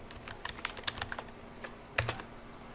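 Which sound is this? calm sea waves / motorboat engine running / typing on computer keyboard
typing on computer keyboard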